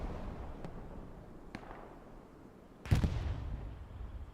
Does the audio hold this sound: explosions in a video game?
yes